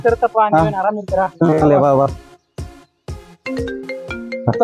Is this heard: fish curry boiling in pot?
no